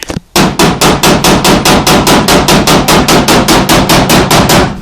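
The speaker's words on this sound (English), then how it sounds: "Hammer and dollies." Rapid, steady metallic hammer blows on a truck's sheet metal body against a dolly, knocking down a high spot, loud and close, about four strikes per second with ringing clangs.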